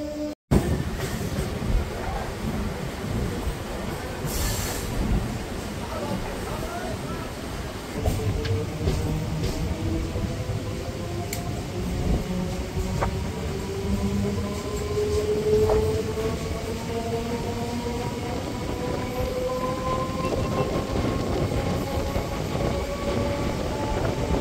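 The Howrah to Digha local train rolls along with a continuous rumble and rhythmic wheel clatter, heard close from inside the car, steady for the whole stretch with faint squeals rising and falling.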